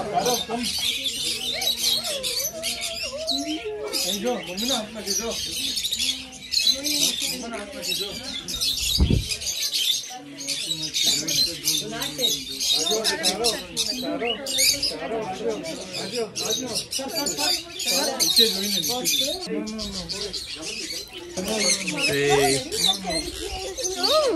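Many small birds chirp and tweet constantly at close range, perched on people and a phone holder at an outdoor bird spot, with excited talking going on over the busy chatter.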